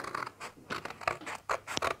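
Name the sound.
scissors cutting card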